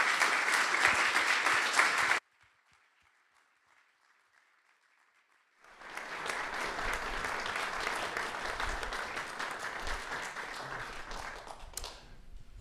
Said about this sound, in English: please give a warm applause to our speaker.